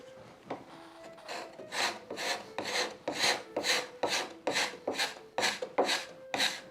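Curved card scraper scraping wood on a door architrave during restoration, a close, rhythmic series of about ten raspy strokes, each a short scratchy swish, with no talk.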